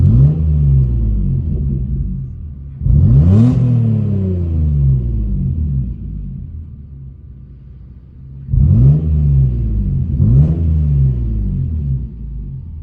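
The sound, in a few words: car engine revving as throttle is given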